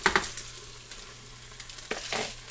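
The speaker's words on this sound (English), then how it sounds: "I wanted it to really be sizzling for 5 minutes" Steady sizzling hiss of food frying in a rice cooker, with a few brief scraping stirs near the start and again toward the end.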